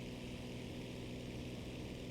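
Propeller engine of a JU-87 B-2 dive bomber in the War Thunder video game, a steady droning hum at even, moderate volume with no talk.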